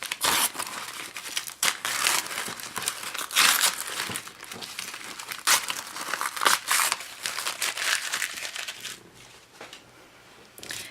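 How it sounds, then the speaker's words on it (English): Embroidery stabilizer is torn away from a finished in-the-hoop business card holder project, giving a run of crisp crinkling rips and paper crackles close up, in uneven bursts that fade quieter toward the end. "Tear away our stabilizer"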